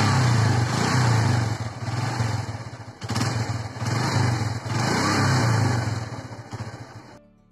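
An old Yamaha Libero motorcycle, ten to fourteen years in service, runs close by with a smooth, rumbling engine note that swells and dips as it revs and eases off while riding, then fades to quiet at the end. No one speaks.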